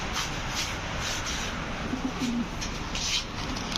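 Racer pigeons at a pigeon farm coo in soft, low repeated calls, close by and steady against a constant background of flock and farm noise, with no talking.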